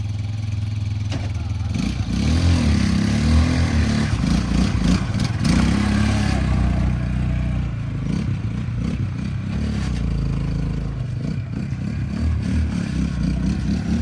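A motorcycle engine drones steadily and loudly throughout a ride, with a brief voice heard over it early on.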